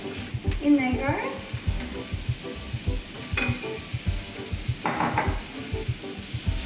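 Spices sizzling as they go into a hot pan for Moroccan baked eggs, a steady frying hiss with stirring scrapes and soft utensil knocks throughout, faint voice sounds briefly.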